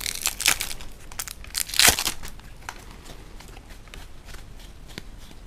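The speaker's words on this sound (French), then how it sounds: "un paquet de cartes pour jouer" A deck of playing cards is handled near the mic, giving a few crisp papery riffles and shuffles in short bursts, loudest near the start, with quieter rustles afterward.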